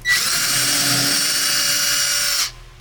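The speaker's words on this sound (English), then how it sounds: "You're going to get your 1/8 drill bit back in. And you're going to pre-drill your hole" A drill with a 1/8 bit pre-drills a screw hole while installing a redwood sauna recliner, whirring at a steady high pitch for about two seconds, then spinning down and stopping; close and fairly loud, no voices.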